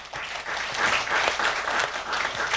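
A church congregation applauds during a Sunday worship service, a loud, dense burst of many hands clapping together, sustained and slightly uneven in intensity.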